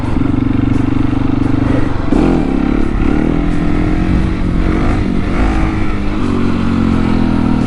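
A KTM 701 motorcycle engine loud and close during second-gear wheelie practice, a sustained throaty drone that surges and dips as the throttle is worked, with some mechanical clatter and no speech.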